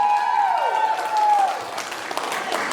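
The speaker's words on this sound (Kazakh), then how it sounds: "Бану тәтем 100-ге келсін дегенде бір шапалақ ұрайшы" Wedding guests at a celebration in Almaty break into applause, a dense patter of clapping mixed with a sustained tonal sound that rises and falls, loud and close.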